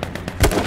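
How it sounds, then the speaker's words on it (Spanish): Rapid gunfire in the battle royale game H1Z1, several close, punchy shots in quick succession ending in a louder boom, with no voices over them. "De atrás nos disparan, de atrás."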